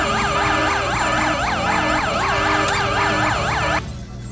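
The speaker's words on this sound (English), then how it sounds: "People just move out of the way when you put the siren on." Emergency vehicle siren in a video game, a loud, close wailing sweep repeating rapidly over engine noise for several seconds before cutting off abruptly.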